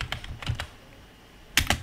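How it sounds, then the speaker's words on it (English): Quick bursts of keyboard typing close by, a few light key taps, a pause, then a couple of firmer keystrokes. "and I start typing"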